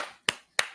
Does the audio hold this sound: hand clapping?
yes